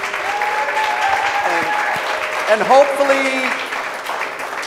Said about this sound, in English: Let's give Michael, Julia, another round of applause.